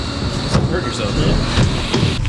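A Nissan R32 Skyline engine idles close by after having misfired, a steady low rumble that runs under general noise and voices through the whole stretch.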